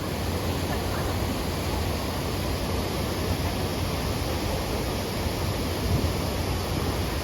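Broad, steady rush of falling water from a waterfall feeding a stream along a promenade at the Seoul Lantern Festival in winter, a continuous even roar filling the clip with no breaks.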